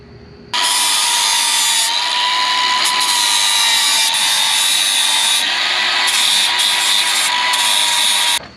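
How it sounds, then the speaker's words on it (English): Flap disc on an angle grinder smoothing a lip on the wheel hub of a BMW E36 325i, a loud, steady, high-pitched whine held for about eight seconds with slight shifts in load, close by and without talking. "I've just got to take the flapper disc, smooth it all out so I can get the wheel on."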